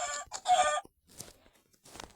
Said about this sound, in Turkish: Lan tavuk öldü.